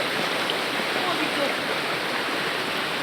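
Steady, dense rush of water flowing from a waterfall and spring, a continuous broadband roar without pauses, close and fairly loud.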